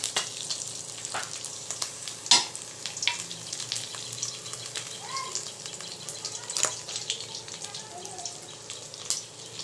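Fried onions sautéed with ground cumin, ginger paste, salt and turmeric for dal, a steady soft sizzle with occasional scrapes and clinks of stirring throughout.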